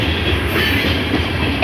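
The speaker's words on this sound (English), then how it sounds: "How long is this train? Looks like some freight cars down there," Freight train rolling past at Folkston, Georgia, a steady loud rumble with faint rail clatter running unbroken throughout, no voices.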